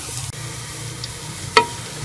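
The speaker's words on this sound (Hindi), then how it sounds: "हम प्याज को हल्का ब्राउन कर लेंगे" Onions frying in a pan until light brown for saag give a soft, steady sizzle, with a brief sharp clink of stirring near the end.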